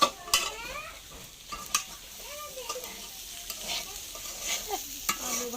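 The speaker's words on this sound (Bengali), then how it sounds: "ডাল রান্না চলছে" Dal cooking in a pan while being stirred, with soft sizzling and repeated scrapes and metallic taps of a spoon against the pan, close and fairly quiet, with faint voices in the background.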